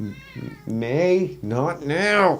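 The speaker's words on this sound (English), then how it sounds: "If you hear a cat in the background, never mind it." A pet cat meows insistently at close range, several drawn-out rising and falling cries in quick succession, with a person speaking to it briefly over the first call.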